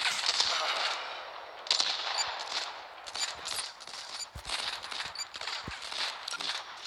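Rapid gunfire from Modern Combat 5 on mobile, a burst of repeated cracking shots with busy game noise between them, moderately loud and steady across the stretch, with no talk over it.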